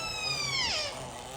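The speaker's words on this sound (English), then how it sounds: "So, for the cat, the realism there is in the meow and the tail flick." An automaton toy cat covered in rabbit fur gives one drawn-out mechanical meow that slides downward in pitch and fades, sounding soft and close against quiet room noise.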